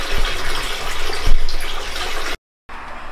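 Water pours loudly and continuously into a 300 gallon aquarium tank, a dense close rushing splash with a short break near the end.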